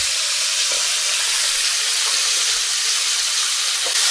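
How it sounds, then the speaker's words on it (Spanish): Flour-coated fish fries in hot oil, giving a loud, steady sizzling hiss with faint crackles and pops, continuous and close with no talking. "Y una vez el aceite está caliente, vamos friendo el pescado."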